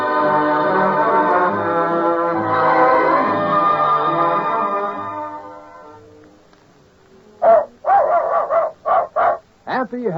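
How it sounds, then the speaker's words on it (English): A 1945 radio advertisement for Gaines dog food ends with a run of sharp, loud dog barks in a quick rhythm. The barks come alone after a stretch of spoken announcement. "Happy, healthy dogs speak for Gaines, Gaines."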